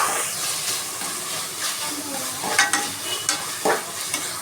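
Finely chopped sour tomatoes fry in a pan for a bitter gourd palya, giving a steady close sizzle and hiss with a few scraping stirs near the end. No speech can be heard.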